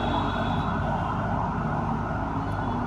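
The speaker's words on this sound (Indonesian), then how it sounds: "ada ambulan dulu biarkan lewat" An ambulance siren wails steadily and loudly on a road, passing close by during a scooter touring ride, its sustained tone dominating alone with road noise beneath.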